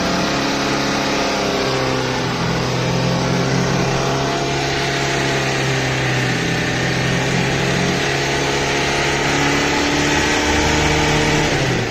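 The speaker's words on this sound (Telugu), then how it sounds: "స్మూత్గా ఉంది కదా ఇంజిన్ సౌండ్, ఆ రఫ్ అనేది పోయింది" Tata Ace pickup engine running smoothly after a carbon treatment, a loud, close, continuous idle hum with a steady drone and slight rev variation throughout.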